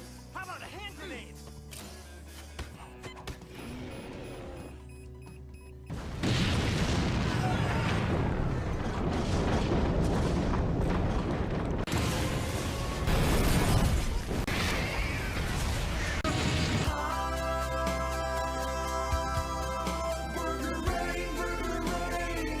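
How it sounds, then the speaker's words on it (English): A hand grenade goes off in the Aquabats! Super Show! TV series. After a few quieter seconds, a loud, sustained blast of rumbling, booming noise fills the rest of the scene, mixed with show soundtrack and voices. "How about a hand grenade?"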